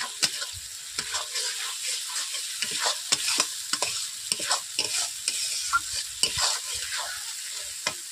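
Cumin and coriander powder frying with chopped tomato in a pan, a constant sizzle broken by frequent scraping strokes of a spatula stirring in an uneven rhythm, close up and with no talking.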